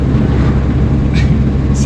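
Cabin of a 1967 Morris Minor on the road, a loud, steady low engine and road drone filling the interior with wind rush, continuous and unbroken for the whole stretch.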